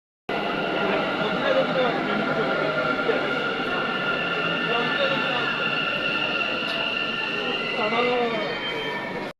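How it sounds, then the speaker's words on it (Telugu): A passenger train at a station on a Bangalore to Hosur trip rumbles and squeals steadily throughout, loud and close, with faint wheel screeches and clatter layered over the continuous running noise. "ఇదే నేను వచ్చిన ట్రైను"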